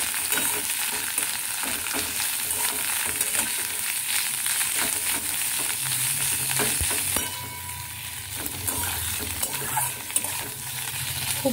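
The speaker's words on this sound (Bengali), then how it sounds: "ভালো করে মেশাতে হবে।" Bottle gourd leaves tossed in hot oil with nigella seeds, green chillies and garlic sizzle steadily while a spatula scrapes and stirs through them, close and continuous, easing slightly quieter in the last few seconds.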